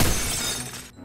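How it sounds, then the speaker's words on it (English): Window glass smashing in Garry's Mod DarkRP, a loud close shatter with bright crackling shards that rings for under a second before cutting off. "Someone just smashed our window, didn't they?"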